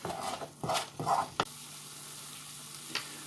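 Spoon stirring sugar into homemade hot chilli sauce in a pan, a few short scraping strokes near the start over a faint steady sizzle, then quieter simmering with one small clink.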